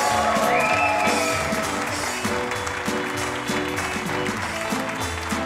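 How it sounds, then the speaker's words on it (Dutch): Theatre audience at a local revue applauds the revue orchestra, a sustained wash of clapping mixed with lingering music tones and a faint voice underneath. "daarvoor een applaus voor ons revueorkest"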